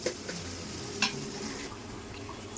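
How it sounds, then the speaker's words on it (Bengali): Onions fry quietly in a pan, a low continuous sizzle with a few spatula stirs and a brief metallic tap near the start, soft and close without speech. "প্রথমে আজকে পেঁয়াজটা ভেজে নিচ্ছি।"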